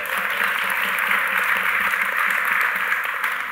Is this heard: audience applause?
yes